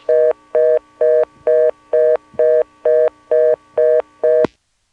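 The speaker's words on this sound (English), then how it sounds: "we knew it would time out to either a reorder or a busy signal" A 1977 NX1-E telephone exchange in Vanceboro, North Carolina gives a loud, steady busy or reorder signal. The tone pulses on and off evenly about ten times, then stops abruptly.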